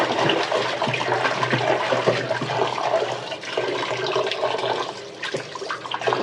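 Aair fish being washed under a running tap, a steady close rush of water splashing over the fish that continues throughout with no voices.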